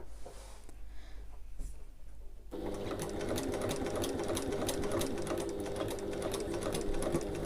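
A home sewing machine stitches fabric for a sling bag. After a few seconds of quiet handling noise, the motor whirs into a steady, close, rapid mechanical clatter that runs continuously to the end.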